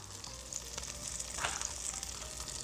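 Birria taco frying in a hot pan, a steady close crackling sizzle with light spits and pops running throughout, with no voices.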